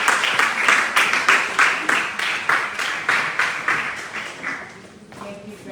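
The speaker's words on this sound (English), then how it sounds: "Please continue to give a round of applause" An audience at a talk on female leadership claps in a steady, pulsing rhythm, roughly two claps per second, before the applause thins out and dies away.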